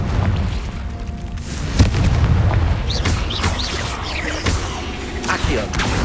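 Confringo fire-blast spells cast repeatedly in a cave in Hogwarts Legacy, sharp booming bursts near 1.8 and 4.5 seconds over a dense rumbling game soundscape, with whooshing magical swirls between them.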